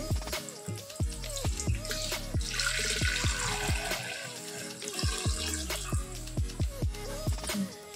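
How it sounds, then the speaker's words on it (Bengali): Water is poured over flour dough in a bowl, giving a close, gurgling splash with bubbly, changing tones that run for several seconds without any talking. "এইবার আমি এই ময়দাটার মধ্যে জল দিয়ে দিচ্ছি।"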